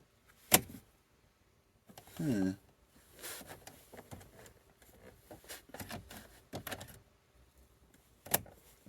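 Electric window motor on a Jaguar X-Type whining in short bursts as the glass moves but fails to close fully, with a few clicks and knocks around it.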